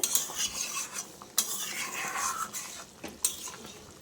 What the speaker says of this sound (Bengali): আমি একটু নাড়াচাড়া দিয়ে দিলাম